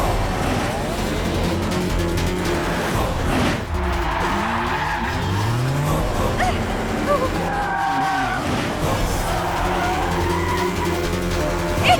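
A taxi speeds through a chase scene with tires squealing in long screeching sweeps, engine roar and dense action-film sound layered throughout, with voices faintly mixed in.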